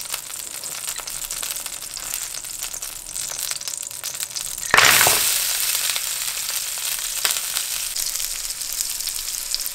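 Potatoes dropped into hot liquid cooking oil, bursting into a loud, sustained sizzle and crackle partway through, with steady background frying before and after, no talking.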